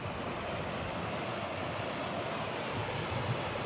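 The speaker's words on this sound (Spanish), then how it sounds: "Qué bonito corre el agua ahora sí." Stream water rushing steadily toward the Basaseachi waterfall in Mexico, a constant broadband roar with no pauses, fairly soft and even throughout, with no voices over it.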